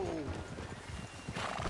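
A horse whinnies briefly at the start in Red Dead Redemption 2, followed by shuffling hoof sounds and a voice in the background.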